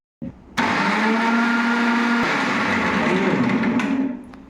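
A mixer grinder blends tomatoes, kicking in abruptly after a brief click and running as a loud, steady whirring whine for about three and a half seconds before cutting off.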